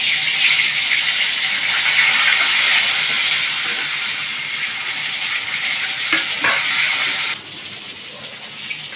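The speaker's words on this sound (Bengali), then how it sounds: "ভাজতে দেবো, তেল গরম হচ্ছে, ভাজতে দেবো" Fish coated in salt, turmeric and chili powder sizzles in hot oil in a kadai, a loud continuous frying hiss with occasional crackles and a utensil scrape, fading slightly near the end.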